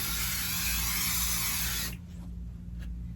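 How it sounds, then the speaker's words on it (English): A spray can of quilt basting adhesive hisses in one steady, loud burst for about two seconds, then cuts off, leaving a quiet room with faint handling noise. "Spray."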